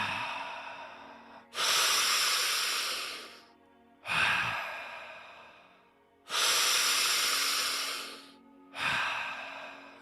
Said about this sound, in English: Get in full inhales and exhales.